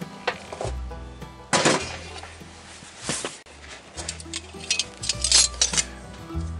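Heavy cast iron Dutch oven lid set back in place and the pot shifted aside outdoors, a run of sharp metallic clanks, scrapes and thunks in irregular bursts, close and fairly loud with no talking.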